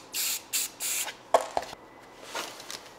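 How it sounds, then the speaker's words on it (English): An aerosol spray paint can hisses onto a clean piece of scrap in three short, close bursts, followed by faint clicks, handling noises and softer hisses. "I'm just going to spray a puddle of paint over here"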